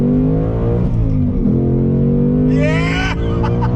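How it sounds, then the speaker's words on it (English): A 2021 Ford Mustang Mach 1 V8 accelerating hard from inside the cabin, with a loud, deep, rising engine roar and a brief gear change partway through. Someone exclaims over it near the end. "Let's go on throttle in this Mach 1."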